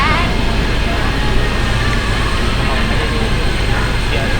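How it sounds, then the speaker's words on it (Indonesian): KRL commuter train arriving at a station platform on the Jogja–Solo line, a dense continuous rumble and rattle of rail cars rolling in, loud and close throughout. "Dan akhirnya KRL tujuan Purwosari pun tiba di peron."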